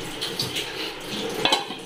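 Cooking pots and vessels clatter and clink in a home kitchen as they are handled and washed, with scraping, knocking and splashing in an uneven, busy pattern close by.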